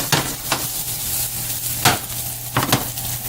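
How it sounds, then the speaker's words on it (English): Roasted tomatoes, garlic and pepper sautéing with sweet onion in a pan, a close steady sizzle punctuated by several scraping stirs of a utensil against the pan. "I've added it to the sweet onion that we had sauteing earlier"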